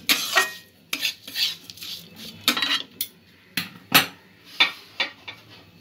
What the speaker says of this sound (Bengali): এরকম ক্রমাগত নাড়তে নাড়তে ভেজে নিতে হবে যতক্ষণ না ডাল এবং বাদামের কাঁচা গন্ধটা চলে যায়